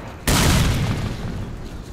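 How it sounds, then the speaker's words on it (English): A grenade goes off in the video game Stalker: Clear Sky, a sudden loud blast at the start that rolls into a long, rumbling decay. "Catch a grenade."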